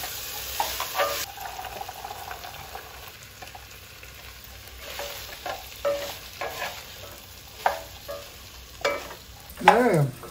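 Beans and carrots frying and being stirred in a heavy pot for Hyderabadi-style vegetable dum biryani, a steady sizzle with irregular scraping stir strokes at close range.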